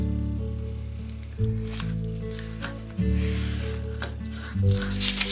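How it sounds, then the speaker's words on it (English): Sheet of square paper being folded in half both ways for an origami desk lamp, with repeated crisp creasing and rustling strokes close by, under a steady low hum. "We're going to fold in half both ways."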